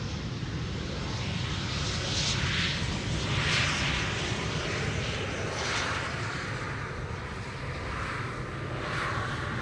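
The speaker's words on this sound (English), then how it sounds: "It's the German Airways pointillistically inspired Embraer 190." A German Airways Embraer 190 arrives on the Polderbaan runway 18R at Schiphol Airport, its jet engines giving a steady, broad roar that holds at moderate distance throughout.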